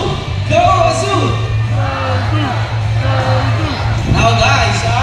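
Children in a crowd cheer and shout in bursts at a bird show, loud close chants and whoops rising and falling in a rhythmic call pattern.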